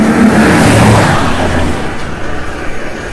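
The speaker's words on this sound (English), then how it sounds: "The sound of an approaching engine turns out to be nothing more than oncoming traffic." A car engine rises loud and near, then fades away as the vehicle passes, in a steady rush of road and motor noise with no voices.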